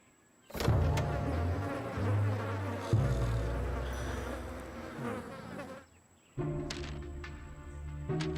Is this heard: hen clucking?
no